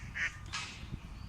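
At a pond with geese, ducks and swans, a couple of short quacks sound faintly over quiet background noise.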